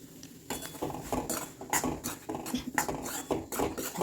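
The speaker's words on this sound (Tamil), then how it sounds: "இதையும் நல்லா கலந்து விட்டுடலாம்" A utensil scrapes and clinks in a pan while roasted raw rice flour is mixed with a pinch of salt, in irregular close strokes with soft pauses.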